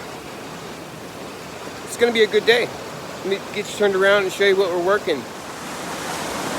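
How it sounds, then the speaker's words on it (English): A creek swollen by about two feet of rising water rages past in a steady, close roar, with someone talking over it for a few seconds in the middle. "The water's come up about 2 feet, and it's just raging through here."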